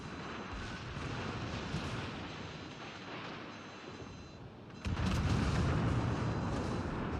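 Heavy rumbling detonations from torpedoes striking warships in World of Warships Legends, a dense roar of blasts that swells sharply louder partway through and stays loud to the end, with no voices.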